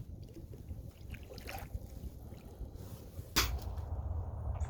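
Kayak paddling on a windy bay in January, with soft water swishes and steady wind rumble close to the microphone, and one sharper splash or gust near the end.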